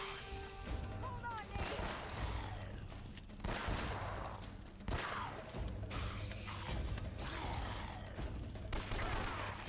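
AK rifle fire in Uncharted: Drake's Fortune rattles out in several repeated bursts with crashing impacts and mechanical clatter, while players talk over the action.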